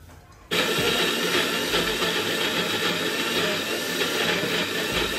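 A blender switches on suddenly and runs with a loud, steady whirring roar as it grinds flat beans into a paste.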